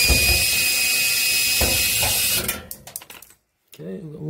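A Phillips screwdriver backs screws out of a Samsung dryer panel with a run of close mechanical ratcheting and clicking. The sound then fades to near silence before a new noise begins.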